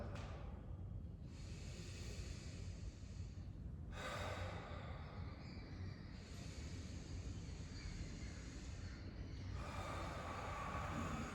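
Slow, faint breaths during yoga arm raises come as long, soft rushes of air, several inhales and exhales separated by quiet pauses.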